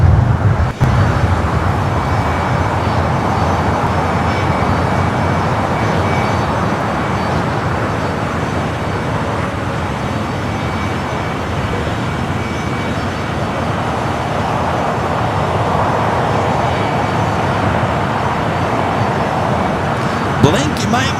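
A Southern Airways Express Grand Caravan touches down on runway 25 left at Los Angeles International Airport, its engine a steady, distant drone blended with broad airport and traffic rumble throughout, with no distinct touchdown thump standing out.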